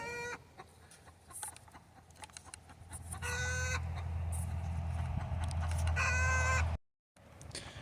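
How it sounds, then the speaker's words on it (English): Small backyard flock of chickens clucking and squalling nearby, with repeated bursts of harsh calls over a steady low rumble and background noise, ending in a brief cut to silence. "as you hear them squalling, that means somebody is probably up inside"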